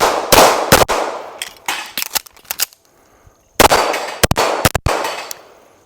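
An MPA DS9 Hybrid rifle fires a run of sharp, loud close shots in two quick clusters separated by a brief quiet gap, with metallic clanks as the bolt locks back.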